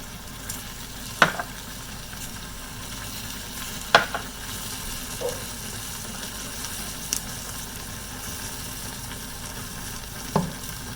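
Caramel pork with garlic, shallot, onion, light soy and fish sauce sizzles gently in a pan, a soft steady fry with a few sharp spoon taps and scrapes spaced several seconds apart.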